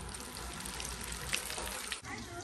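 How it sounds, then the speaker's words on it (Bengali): Kebabs frying in a pan give a steady, quiet sizzle with faint crackles, broken by a short dip near the end. "এদিকে আমি কাবাব ভেজে নিচ্ছি"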